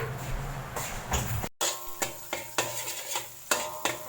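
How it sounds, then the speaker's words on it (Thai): Mee sua noodles being stir-fried in a wok, close scraping and tossing strokes in a rough rhythm of short bursts, with a soft sizzle beneath. "เดี๋ยวป้าจะผัดแล้วนะ"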